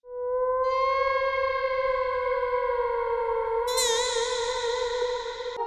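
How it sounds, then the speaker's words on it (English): Something Human, a sampled instrument played in LANDR Quick Sampler, holds one long, steady tone with rich harmonics and echo, then a brighter, wavering layer joins near the end before the note fades slightly. "It is in Quick Sampler. It's called Something Human, and it sounds like this."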